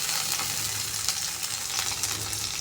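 Green chilli, onion and bay leaf fry in mustard oil in a home kitchen, giving a steady, close sizzle that crackles and hisses throughout with no voices.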